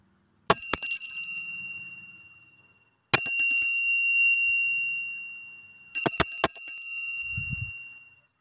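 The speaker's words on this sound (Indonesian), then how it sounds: "kita akan lanjutkan dengan ditandai lonceng berbunyi" A bright bell rings three separate times, each strike clear and close, then slowly fading away before the next.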